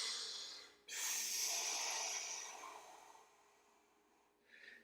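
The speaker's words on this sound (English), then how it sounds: "Take a nice big breath in here." A person doing a twisting stretch with the elbow braced against the knee takes one deep, airy breath in, close and clear, then it fades into quiet, with a short breathy sound near the end.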